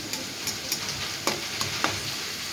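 Onions stirred and softening in a hot pan for a chicken keema and turnip curry, a steady close sizzle broken by several sharp scraping stirs of the spatula, with no talk.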